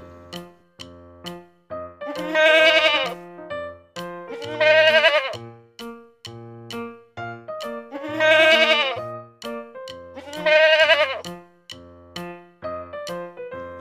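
Four long, wavering bleats sound at regular intervals over a plucked, rhythmic musical backing, clear and prominent, probably a recorded or synthesized goat call.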